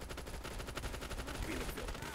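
Rapid gunfire in a multiplayer virtual reality game, a dense rattling stream of shots throughout, heard without talk over it.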